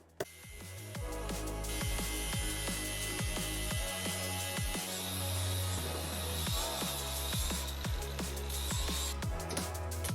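A power tool, likely an angle grinder, cuts a shape out of a metal tube for a custom rear bar. It gives a loud, continuous buzzing whine with a rhythmic pulsing and shifting pitch as the cut goes on.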